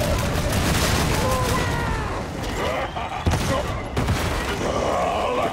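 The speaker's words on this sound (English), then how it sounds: "Throwing grenade!" Grenade explosions and gunfire in the Boltgun video game: a continuous loud din of rapid shots and booming blasts that fills the whole stretch, with shouted game voices mixed in.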